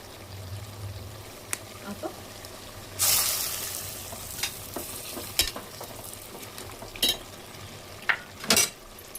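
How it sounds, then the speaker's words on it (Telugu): Onions and coriander powder fry in a pan for chicken biryani, with a low sizzle under repeated sharp scrapes and clanks of a spoon stirring against the metal pan. "ధనియా పౌడర్ ఆల్రెడీ వేసేసాను, బాగా కొంచెం వేగాలి. ఉల్లిగడ్డ వేసాము."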